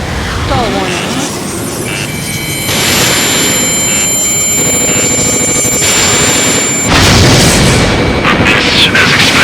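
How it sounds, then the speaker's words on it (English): Railgun fire in the Ace Combat 7 flight combat game, heavy booming energy shots over constant jet engine roar, with layered alarm tones and radio talk mixed in. "Some kind of energy weapon. No, it's a railgun."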